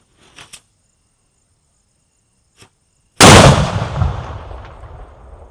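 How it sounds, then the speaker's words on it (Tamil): A Diwali nattu vedi window cracker tied to a tree explodes at night with one sudden loud blast that rings off and decays over a couple of seconds, after a few faint small pops. "லாஸ்ட்டு வெடி சும்மா தெறிக்க விட்டுருச்சு"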